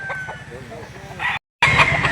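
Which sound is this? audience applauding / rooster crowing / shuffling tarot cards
rooster crowing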